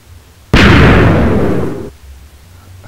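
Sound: cannon firing in Minecraft, a video game

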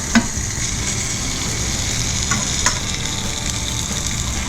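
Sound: chicken patties frying on grill pan

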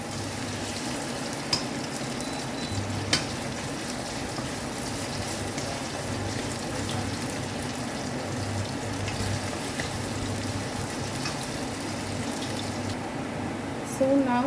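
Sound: ginger being sautéed in a pan

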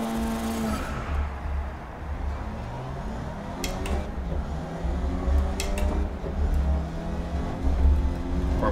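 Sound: Formula 1 style car engine revving in the racing video game GRID

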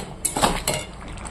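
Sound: fried tangra fish added to the pan

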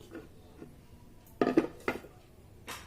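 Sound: handling a vegetable serving bowl from a dining set

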